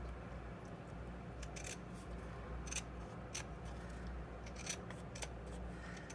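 Scissors trim a small lip off a paper box, giving several faint, brief snipping cuts over a steady low background hum, with no talk.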